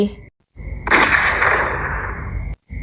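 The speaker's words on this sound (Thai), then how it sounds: "เสียงปืนดังสะท้านไพร" A single loud gunshot-like blast in a forest, with a long ringing decay, cutting sharply out of a quiet background and fading over about a second and a half.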